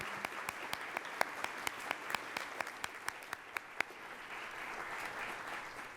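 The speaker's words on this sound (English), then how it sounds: "Let's give them another round of applause." A club audience applauds panel speakers after a discussion on loneliness, dense steady clapping with a few sharp individual claps standing out near the front before the sound gradually thins toward the end.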